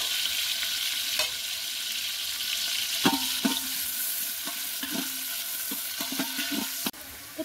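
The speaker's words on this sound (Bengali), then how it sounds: "পেঁয়াজটা ভালো করে ভেজে নিতে হবে ব্রাউন কালার করে।" Onions fry in a pan with a steady, close sizzle, while a spatula scrapes and knocks against the pan at irregular intervals throughout.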